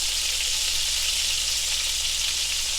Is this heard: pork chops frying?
yes